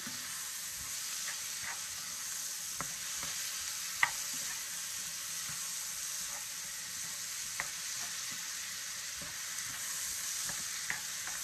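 Steady sizzling of vegetable wrap filling frying in a pan over high heat, with occasional soft scrapes and clicks of stirring; no voices.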